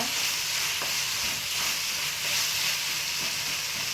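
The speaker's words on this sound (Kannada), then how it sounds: "ಈಗ ಕರ್ಬೇವಿನ ಸೊಪ್ಪು ಹಾಕ್ತಾಯಿದ್ದೀನಿ. ಸ್ವಲ್ಪ ಮೆತ್ತಗಾಗಲಿ." Curry leaves fry in a hot pan with a dense, steady hissing sizzle, and faint stirring scrapes run underneath.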